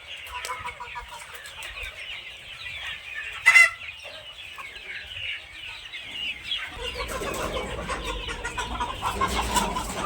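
Chickens cluck steadily together in a coop with wooden perches, with one sudden loud squawk standing out near the middle while the flock keeps up its murmur.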